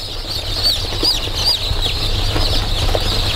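Newly hatched chicks in an incubator peep and chirp in a busy, overlapping chatter over a low steady machine hum, close and fairly loud.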